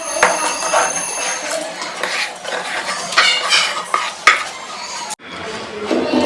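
Ground coconut paste with cumin and shallots is being stirred into cooked greater yam in a pot. A spoon scrapes and clinks against the vessel in a run of close strokes, and a faint sizzle sits underneath.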